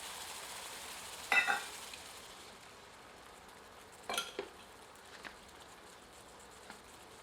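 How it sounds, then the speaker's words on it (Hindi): Ground tomato stirred into roasted spices in a pan, heard as a faint, low sizzle with a few brief clinks and scrapes of a spoon against the pan and no voices. "अब भुने हुए मसाले में पिसा हुआ टमाटर सम्मिलित करते हैं। इसे मसाले में अच्छी तरह मिलाते"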